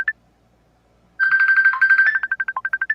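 A phone ringtone sounds loud and close, a short chirp followed after a pause by a rapid run of repeated electronic tones that breaks into evenly spaced beeps.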